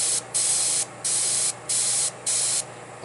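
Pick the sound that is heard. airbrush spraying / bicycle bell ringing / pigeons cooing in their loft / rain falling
airbrush spraying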